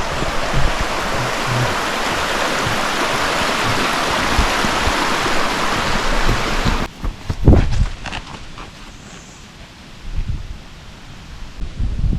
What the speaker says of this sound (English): Starting off crossing the river here.